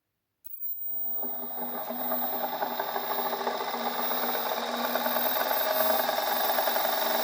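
A steady electric motor hum starts abruptly and runs continuously, a close mechanical whir with a faint rattle underneath that grows slightly louder over time.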